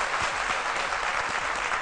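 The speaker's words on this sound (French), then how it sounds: "Monsieur Foued, qu'on applaudit bien fort," Studio audience applauding on a live Ivorian midday TV show, a steady dense wash of many hands clapping close and loud for the full stretch with no voices over it.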